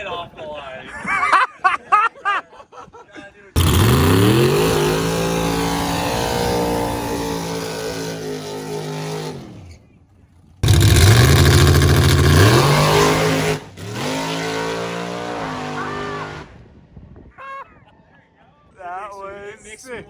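A drag racing car launches hard off the line, its engine roaring loud and close and climbing through quick gear shifts with brief drops between pulls. People talk excitedly before and after the run.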